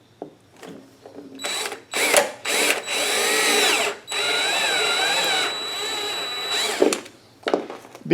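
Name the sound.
step drill drilling a hole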